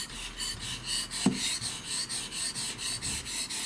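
A Japanese santoku knife is drawn repeatedly across a Japanese whetstone, giving steady rhythmic rasping strokes about every quarter second, close and even, with one brief knock partway through.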